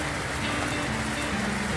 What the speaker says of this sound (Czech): tak tady už zase prší